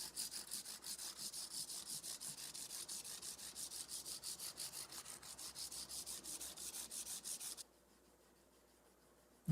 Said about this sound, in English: this is some 320 grit sandpaper